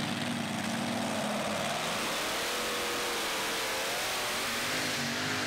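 A supercharged tractor-pull machine at an agricultural show, its engine screaming at full throttle, the pitch climbing and wavering as it bounces down the track, loud and continuous.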